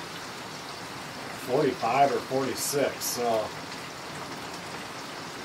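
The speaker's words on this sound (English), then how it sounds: "I asked her if it was raining like this here" Heavy rain drumming steadily on a tent at a deer camp, a dense constant hiss throughout while someone speaks briefly over it.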